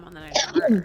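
A single short sneeze bursts out midway through a brief stretch of game dialogue voiced over it.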